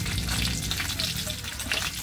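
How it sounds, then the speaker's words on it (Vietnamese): Freshwater field fish frying in hot oil, a dense steady sizzle with crackling bursts continuing throughout, loud and close with no talking. "Em chiên con cá lên màu đẹp hết sức luôn cả nhà."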